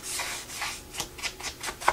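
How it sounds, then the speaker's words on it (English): A paint dauber rubs white paint along the edges of a decorative wooden box in quick, soft scrubbing strokes, about six or seven short swipes close by with no voices. "I'm going to use my paint dauber and edge again the sides"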